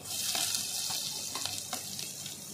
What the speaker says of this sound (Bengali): ভালো করে আমি লাল করে ভেজে নেব একটু